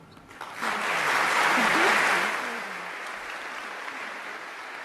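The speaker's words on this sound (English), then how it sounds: "please give them another warm round of applause" Warm audience applause at an education awards breakfast, a broad wash of many hands clapping that swells, peaks, then eases to a steady lighter patter, with a voice faintly underneath.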